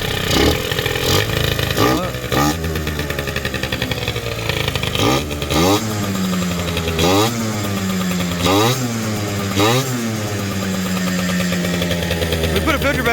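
A Kymco Super 8 scooter fitted with a Polini Sport 70cc kit and running without its air filter revs hard and repeatedly, its buzzing, high-pitched engine note rising and falling up close in a steady, continuous roar.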